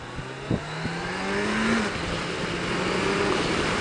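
A 2020 Kawasaki Ninja 1000 SX motorcycle engine revving up and accelerating, a rising drone that climbs in pitch, with a brief thump near the start, steady and fairly close.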